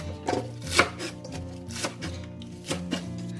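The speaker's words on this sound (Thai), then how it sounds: "หั่นค่ะแล้วก็หั่นเป็นท่อนเลยค่ะ" Knife strikes chop spring onions against a board at an uneven pace, a handful of crisp cuts standing out above steady background music.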